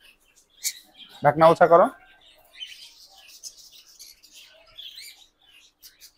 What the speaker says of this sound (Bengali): এখানে দেখতে পাচ্ছেন কোনোর আছে yellow sided green cheek double red factor